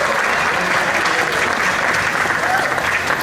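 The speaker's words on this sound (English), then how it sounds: "If we can please give her a round of applause as well." A crowd at a Hmong community festival in Wausau gives a sustained round of applause, dense and steady clapping filling the whole stretch at fairly close range.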